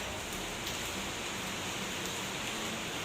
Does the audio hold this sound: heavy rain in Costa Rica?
yes